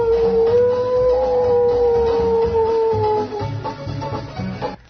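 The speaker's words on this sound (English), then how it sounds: "the sound of a timber wolf coming down from way up on the upper slope somewhere." A timber wolf's long sustained howl rising from a distant upper slope in the night, loud and wavering, then fading into lower rumbling background sound.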